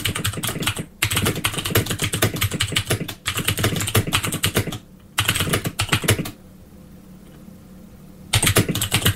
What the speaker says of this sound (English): If I type some text here,